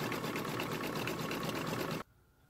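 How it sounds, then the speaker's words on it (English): A Brother sewing machine stitching an applique satin stitch hums with a fast, steady, rhythmic buzz up close for about two seconds, then cuts off abruptly into near silence. "And now it's starting the satin stitch."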